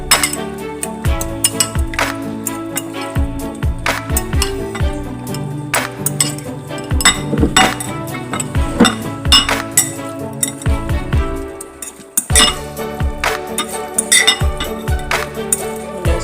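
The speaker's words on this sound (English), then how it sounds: "I'm just gonna mix that egg all over." Utensil clinking and scraping against a bowl while egg is mixed over shrimp, a run of rapid, irregular metallic taps and knocks close up, continuing steadily with a brief pause near the end.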